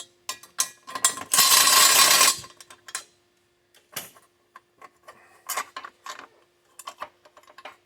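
Rear wheel bolt beside the brake line being loosened on a Kawasaki Vulcan 900 custom motorcycle, heard as close ratchet clicks and metallic taps, with one longer grinding burst near the start and scattered clicks after it.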